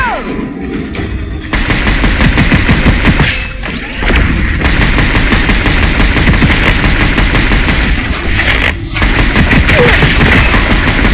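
Rapid automatic gunfire from a first-person shooter, Gunfire Reborn, bursts loud and dense for nearly the whole stretch, with brief gaps between sustained volleys and booming impacts mixed in.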